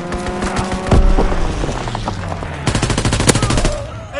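Rapid machine-gun bursts from an enemy aircraft strafing run in a video game, loud sharp rattling volleys with a heavy boom near the start and another dense burst later.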